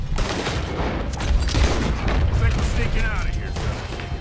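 Dense gunfire in Red Dead Redemption 2, a busy volley of overlapping shots and booms filling the clip loudly and continuously, with some voices underneath.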